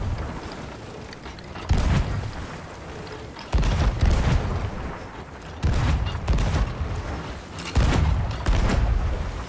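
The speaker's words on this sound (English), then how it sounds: "Let's just get some cannon shots in whilst they're giving us" Ship cannons firing in a naval video game: four heavy booming volleys spaced about two seconds apart, each a broad roaring blast that rolls off into rumble, loud and close, with no talk.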